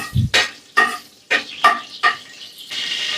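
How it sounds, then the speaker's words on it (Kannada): Oil and butter heating in a pan for an avarekaalu sagu curry, with a few metal scrapes and stirring knocks over a soft sizzle that grows more steady toward the end. "ಈಗ ಎಣ್ಣೆ ಮತ್ತೆ ಸ್ವಲ್ಪ ಬೆಣ್ಣೆನ ಚೆನ್ನಾಗಿ ಬಿಸಿ ಮಾಡ್ಕೊಳ್ಳೋಣ"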